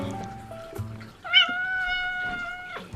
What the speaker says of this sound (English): My cat just broke into my room.